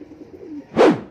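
A pigeon coos briefly near a loft in Quiapo, Manila as birds return home, a short close call after a faint low murmur.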